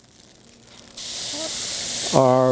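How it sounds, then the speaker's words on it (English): A sudden broad hiss of shiitake and baby bella mushrooms hitting hot oil, steady and loud, with a voice briefly speaking over the sizzle near the end. "Sizzle's coming from the water coming out of these things."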